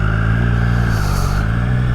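Motorcycle riding along a road on a hot day near Sawbridgeworth, Hertfordshire, a steady close engine drone with a slight rise in revs, no talk over it.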